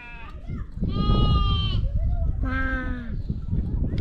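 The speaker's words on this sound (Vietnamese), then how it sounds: "Rất là nhiều con dê luôn." Goats in a Hamar village pen let out two long, loud, quavering bleats close by, with other faint calls and shuffling around them and a voice speaking briefly.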